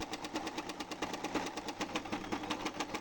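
A Butterfly electronic sewing machine runs a chain stitch with a steady, fast mechanical chatter of evenly spaced pulses over a low motor hum. It is close and continuous, with no voices.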